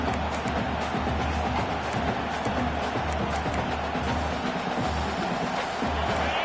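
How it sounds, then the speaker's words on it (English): Football stadium crowd roars in a continuous wash of cheering and shouting, broad and steady, a large distant mass of voices with no single clear speaker over it. "It's early, but this crowd is fired up. Listen to this noise here."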